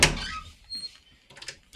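A door opening inside a small Japanese lodging, heard as a sharp near click and creak at the start, then quieter handling sounds and a second knock-like clunk at the end.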